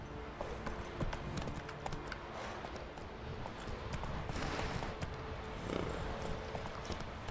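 Roach, a horse in The Witcher 3, galloping with fast, continuous hoofbeats at a fairly quiet level over a dense, noisy game backdrop, with no pauses.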